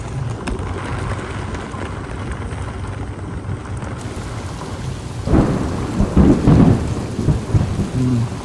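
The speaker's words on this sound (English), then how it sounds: "Rain, go away." Steady rain patters down on a boat on the Tombigbee Waterway while thunder rumbles, swelling into louder, rolling peals toward the end.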